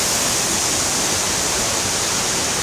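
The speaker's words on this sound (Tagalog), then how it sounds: "And eto yung falls." Bogsukan Falls in Tiwi, Albay, pouring in a constant, dense, broadband roar that fills the air evenly with no pauses and no voices.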